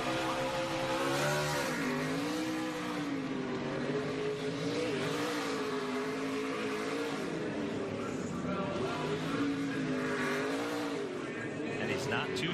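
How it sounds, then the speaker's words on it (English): A NASCAR race car does a victory burnout, its engine revving hard with tire squeal and roaring throughout while commentators talk over it. "That is a very good burnout there."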